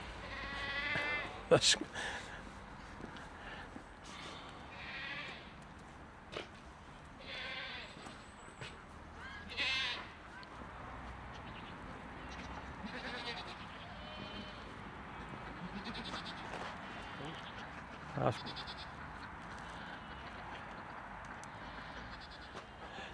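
Several goats on a farm bleat on and off, calling for feed, some close and loud, others farther away, over a low background hum.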